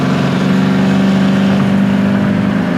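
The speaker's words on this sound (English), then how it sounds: "Exhaust sounds great." A 1969 Camaro's exhaust drones loud and steady from inside the car under acceleration, a deep continuous engine tone holding for a few seconds with no talking.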